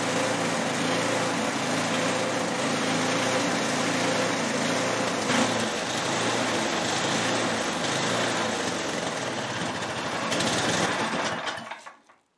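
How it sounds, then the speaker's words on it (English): An 8HP Tecumseh snowblower engine idles roughly and surges, a close, continuous buzzing drone with slight swells before it cuts off at the end. "She doesn't idle too good, and it surges"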